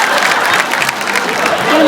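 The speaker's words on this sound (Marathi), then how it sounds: "जोरदार टाळ्या होऊन जाऊ दे, जोरदार टाळ्या" Studio audience at a Marathi women's game show claps loudly and steadily, a thick burst of applause with faint crowd voices mixed in.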